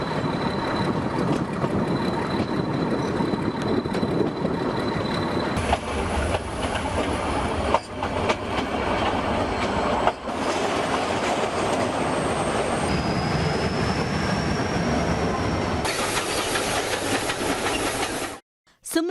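Nilgiri Mountain Railway steam toy train running on the Ooty hill line, a loud continuous rumble of rolling wagons with wheel clatter, thin high squeals and hissing steam, close and steady throughout with no talk.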